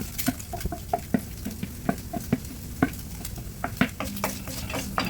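Onions frying in oil with sardines, for ginisang sardinas with bitter gourd leaves: a steady close sizzle broken by regular scrapes and clinks of a spoon stirring against the pan, with no talking.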